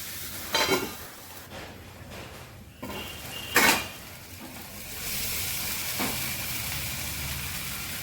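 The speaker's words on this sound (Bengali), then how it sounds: "এবার পেঁয়াজটা একটু ভাজা হবে।" Chopped onion fries in a pan with salt, turmeric and ginger for a soybean and potato curry; a few sharp stirring clatters come first, then a steady, close sizzle settles in.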